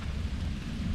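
Steady rain in Central Park, New York City, a dense continuous hiss with low rumbling underneath, no voices.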